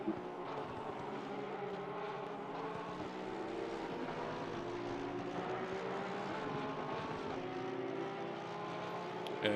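Race cars in a simulated endurance event at Imola, including a Porsche, roar steadily through a lap, a dense, continuous engine drone with shifting pitch and no break throughout.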